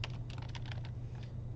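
Quick, light keystrokes clatter on a computer keyboard in a short burst of close taps, with a low steady hum beneath.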